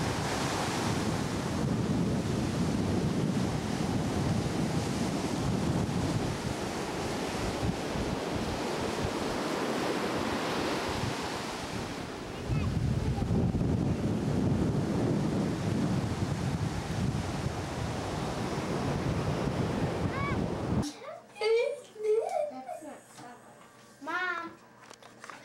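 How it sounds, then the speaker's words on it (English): Ocean surf rolls in steadily on a Florida beach in March, a broad continuous wash of waves heavily buffeted by wind on the microphone, before people briefly talk near the end. "Ocean is beautiful."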